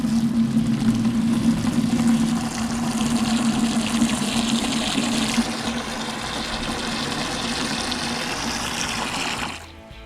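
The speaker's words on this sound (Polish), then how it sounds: "Jest ciepła woda" Warm water gushes steadily from a calf milk-mixing machine in a cattle barn, a loud continuous rush that shifts in tone partway through and cuts off abruptly at the end.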